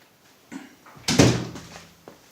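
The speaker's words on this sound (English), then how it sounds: "let me close this door." An indoor door shuts with a single solid thump and brief rattle, moderately close in a quiet room, followed by a short fading resonance.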